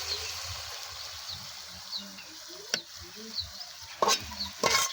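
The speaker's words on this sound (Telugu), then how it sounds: "చేపలు వేసుకుంటున్నా. ఈ కోన చేపలు చిన్నవి." Small kona fish frying in a pan for curry, a quiet steady sizzle with a few louder splattering pops and spatula scrapes, close up.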